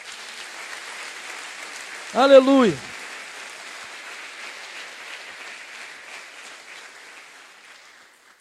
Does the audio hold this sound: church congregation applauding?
yes